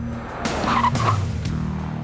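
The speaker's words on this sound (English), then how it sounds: "On the skid pad we needed 117 feet to stop from 80k." A car brakes hard from 80 km/h on a skid pad, its front disc and rear drum brakes stopping it with a brief squealing tire skid heard from nearby.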